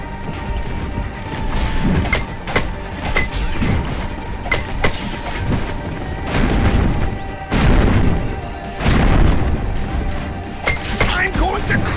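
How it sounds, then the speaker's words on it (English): Missile explosions and combat in the video game Loopmancer: repeated heavy booms and crashes with sharp impacts, loud and dense over several seconds, with a voice talking in places. "Have fun with this missile, idiot."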